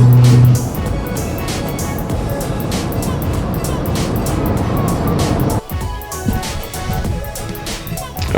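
A car cruising along a road, with steady, close road and engine rumble from inside the cabin, broken by a brief dip partway through before the drive continues.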